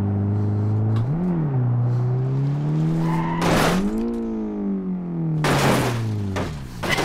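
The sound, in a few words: car driven hard in video game BeamNG Drive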